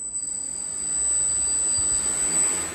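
A homemade RC airplane motor runs at throttle with a steady, piercing high whine over a constant airy rush, close and continuous, no voices.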